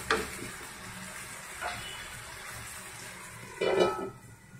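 Curry leaves sizzle with mutton in a pan: a soft, steady frying hiss with a few brief spatters and scrapes, moderately quiet and without speech.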